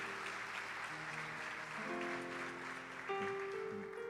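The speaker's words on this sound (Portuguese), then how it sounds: "Aplauda ao Senhor, porque Ele é digno" A church congregation claps in praise while sustained organ or keyboard chords hold underneath, the applause a soft, even wash of many hands rather than sharp individual claps.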